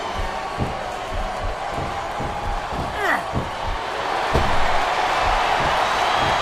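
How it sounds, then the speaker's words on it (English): In the WWE SmackDown vs Raw 2007 wrestling video game, a capacity arena crowd roars steadily. The noise swells toward the end, and sharp slams and thuds cut through it. "It sounds like this capacity crowd has something on their minds, Taz."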